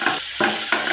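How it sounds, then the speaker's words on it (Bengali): Chopped onions fry in a pan with a steady, bright sizzle broken by two short quiet gaps, as if the pan is briefly stirred or lifted. "পেঁয়াজ কুচিগুলোকে লাল লাল করে ভেজে নেব"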